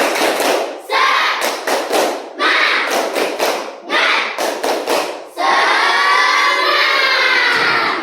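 A classroom of schoolchildren does a rhythmic clap cheer in unison, bursts of clapping and thumps separated by short pauses, then ending in a long sustained shout and cheer from the whole group, loud and close.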